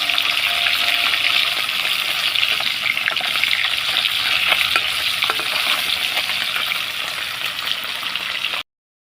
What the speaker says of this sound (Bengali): ভাজাটা হয়ে গেছে এবার আমি তুলে নেব